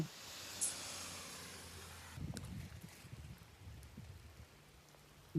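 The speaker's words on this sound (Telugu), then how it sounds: "ఎంత చల్లగా ఉందో వాన అసలు ఇక్కడ" Cold rain falls steadily on a cycling trip from Italy into Slovenia, a faint soft hiss of rain with light wind buffeting and a few rustling bumps nearby.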